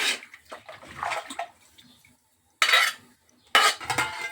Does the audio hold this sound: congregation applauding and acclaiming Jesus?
no